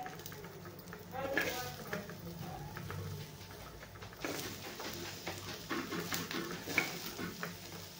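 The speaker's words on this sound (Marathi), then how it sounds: "आता हे कांदा आपल्याला छान सगळा भाजून घ्यायचा आहे" Onion frying in a pan, with a soft crackling sizzle, intermittent stirring scrapes and a few utensil taps running through the whole stretch.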